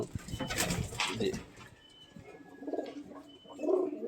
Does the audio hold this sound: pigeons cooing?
yes